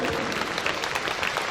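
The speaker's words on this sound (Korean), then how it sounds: "맞으면 여러분들을 위해서 박수 한번 드립니다" A short burst of audience applause at a book launch event for a Korean National Assembly member, dense and close clapping from a crowd filling the whole moment.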